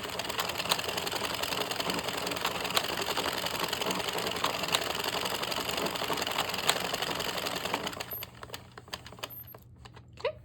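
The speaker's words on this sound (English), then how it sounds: "tighten your stitches, and then we're going to knit 5 rows." An Addi 22 needle knitting machine knits rows of a striped beanie, giving a steady, dense mechanical clatter that runs continuously and loud before easing off near the end.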